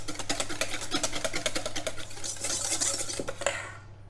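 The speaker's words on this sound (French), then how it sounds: "Je mélange." Sugar-free, fat-free chocolate cake batter with oats, salt and eggs is stirred in a bowl, a quick run of rhythmic scraping and tapping strokes, fairly close and moderately quiet, with a low steady hum underneath.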